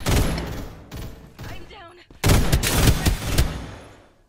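Bursts of rapid gunfire crack out in a shooter game, with several loud volleys separated by short pauses and a voice heard between them.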